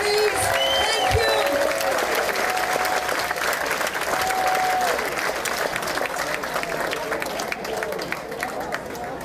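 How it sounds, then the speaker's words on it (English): An audience at a reunion concert applauds loudly and steadily throughout, with scattered voices and cheers mixed into the clapping. "Give a nice hand, please."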